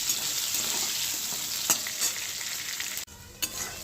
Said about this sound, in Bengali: পটলটা আমি হালকাভাবে এইভাবে ভেজে নেব।